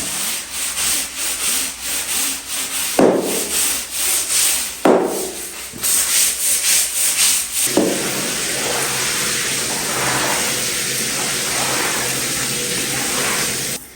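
A long-handled floor scrub brush with squeegee scrubbing a floor in rhythmic back-and-forth strokes, close and continuous, with a few brief pauses between passes.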